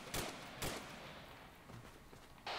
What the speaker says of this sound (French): C'est quoi ces tirs?